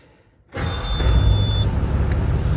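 A Cat 315 BL excavator's diesel engine with a failed electronic throttle cranks and starts abruptly, jumping from near silence to a loud, steady, close idle rumble, with a brief high whine as it catches and no voices.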